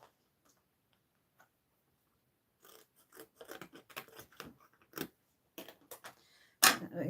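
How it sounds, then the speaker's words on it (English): Scissors snip through gold card up close: after a quiet start, a series of small crisp cuts and clicks in irregular bursts, ending with a sharper louder snip. "just cut a bit of gold to do this."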